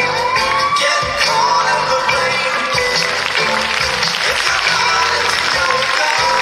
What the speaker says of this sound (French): On peut applaudir très très fort Jérôme Cosplay pour cette performance incroyable.